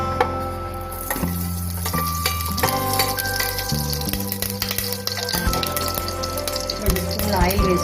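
Ghee and oil sizzle in a hot pressure cooker on a stove, making a steady crackle that runs alongside tonal background music throughout, with no talking heard.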